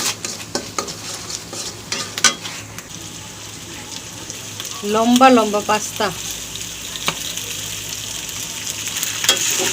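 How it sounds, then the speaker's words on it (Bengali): Pasta with fried eggs and spice mix is tossed and stir-fried in a pan, producing a sustained sizzle broken by scraping, clattering stirs; a voice speaks briefly partway through. "আর দিয়ে এখন সব কিছু ওলট পালট করে একসাথে মিক্সিং অ্যান্ড মিক্সিং"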